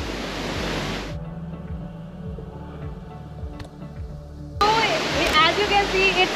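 A waterfall beside a stony trail near Rishikesh gives a loud, steady rush of falling water that drops away for a few seconds in the middle and then returns even stronger, with faint talk underneath.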